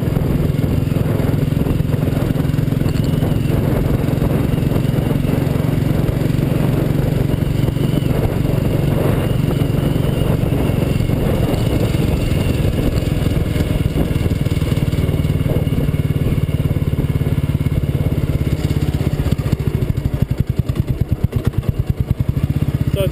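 A Royal Enfield Bullet motorcycle engine runs steadily at about 2500 RPM, close and fairly loud, with a bit of rattling near the end.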